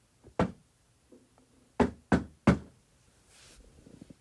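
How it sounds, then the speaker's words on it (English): Several knocks on the front door of a house, a single rap followed by three sharp blows in quick succession, close and clear against a quiet background. "I pulls up to the lady's house and knocks on the door."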